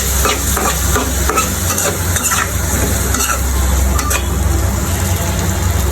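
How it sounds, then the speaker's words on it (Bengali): Steady, loud sizzling of soybean chunks frying in oil in a pan, continuous throughout with no talking. "লাল করে ভেজে নেব"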